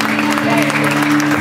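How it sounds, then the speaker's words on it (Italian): Loud, sustained crowd applause rolls on at the end of a tribute concert, with a steady sung or held musical tone and shouting voices mixed underneath the clapping. "Un applauso, qua fatelo continuo"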